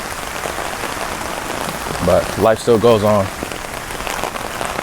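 Steady rain pattering on Tokyo streets, a dense close wash of drops on pavement continuing throughout, with someone briefly speaking over it midway.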